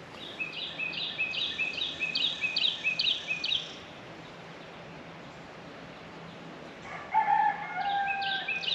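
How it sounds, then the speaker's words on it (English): A rooster crows outdoors near the Bowmansdale Covered Bridge in Pennsylvania, with a string of repeated calls early on and another burst near the end, heard at a moderate distance over quiet ambient background. "Hear that rooster just crowing over here?"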